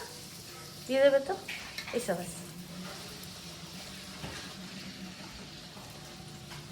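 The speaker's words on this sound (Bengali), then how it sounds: "এই যে লুচি ভাজা চলছে।" Luchi puffed flatbreads deep-frying in oil, a soft continuous sizzle under someone speaking, with a few clinks of a spatula near the start.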